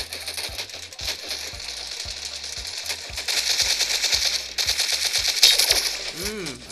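Thompson Tommy gun fire in the video game Sausage Man, steady bursts of rapid, even shots repeating over several seconds, with clicks, a rising tone near the end, and people talking over the gunfire.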